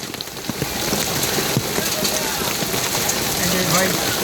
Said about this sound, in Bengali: দেখতেই পাচ্ছেন কী পরিমাণ বৃষ্টি।